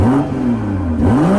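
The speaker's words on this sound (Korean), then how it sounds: "마지막으로 M440i의 배기음을 들어보겠습니다." A warmed-up 2021 BMW M440i (G22) revs its engine: a near, loud exhaust note rising and falling through two throttle blips.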